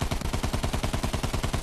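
Rapid automatic gunfire from the video game Battlefield 1, a fast, even string of loud bursts firing without pause and without speech.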